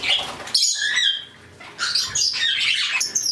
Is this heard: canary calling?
yes